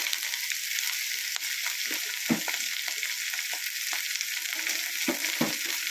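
Chopped sambar spinach sizzles in a pan with sautéed onions, a bright, steady frying hiss close by, broken by several soft stirring scrapes and taps, with no talking.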